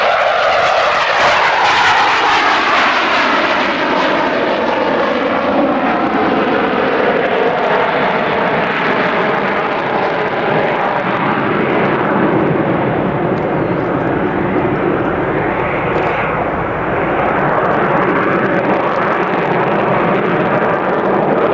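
RAF aircraft making its final low pass at a 1992 Finningley air display and pulling up into a climb, a loud sustained engine roar and rushing noise that swells and shifts in tone throughout, with no talk.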